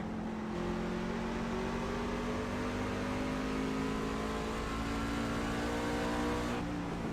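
C Class race car engine in iRacing at Myrtle Beach, running sick, with a sustained droning roar and steady rising harmonics, moderately quiet and continuous with no speech.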